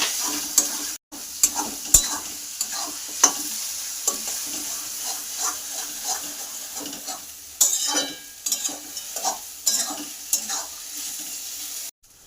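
Chili paste with turmeric and chili powder sizzles steadily in a pan, while a spoon scrapes and stirs it in repeated close taps and strokes.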